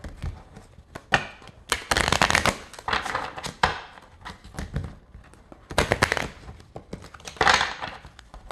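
Cards from a new, stiff deck are riffled and shuffled in several crisp, rapid bursts separated by short pauses, close up.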